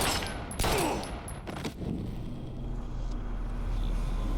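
Gunfire in the video game Life is Strange: a quick burst of sharp shots near the start, followed by a lingering low rumble with no talk.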